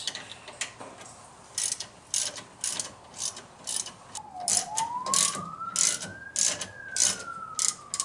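Repeated ratchet clicks from a 17 mm socket working on the caliper hardware of a 1999 Jeep WJ during an Akebono brake swap, coming in short close bursts with a rising whine partway through.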